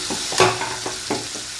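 Grated onion hits a hot pan of oil and sizzles steadily, with a few stirring scrapes and utensil knocks against the pan, close and fairly loud with no one talking.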